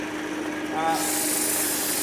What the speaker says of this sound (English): Up and underneath your work, sanding off any markings that are left and finishing off that final shape.